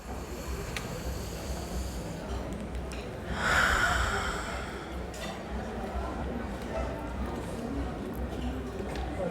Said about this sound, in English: take a deep breath together